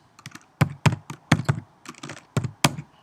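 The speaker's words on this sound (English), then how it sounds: "I'm having to type with one finger" Close keystrokes on a computer keyboard, tapped out one finger at a time in an uneven run of single clicks and clacks with short pauses, no talking.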